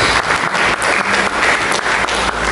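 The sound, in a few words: applause for Jesus Christ in church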